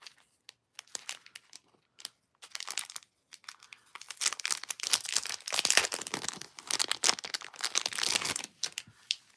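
A pack of stickers from an online-store haul is opened up close, with crinkling and tearing of packaging. The sounds start as sparse scattered rustles and build into denser, continuous crackling.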